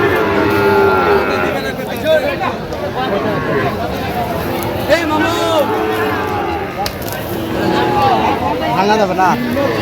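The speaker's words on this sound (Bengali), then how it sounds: "চাষার গরু" Cattle moo repeatedly at a busy livestock market where Sahiwal bull calves are sold, with several long calls rising over constant crowd chatter and bargaining voices.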